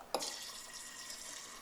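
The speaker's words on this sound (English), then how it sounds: "we want to rinse this out and use this wash to clean out the funnel" Water sloshes and rinses inside a honey jar during mead making: a sudden splash, then a steady, soft, hissy wash of moving water with no speech.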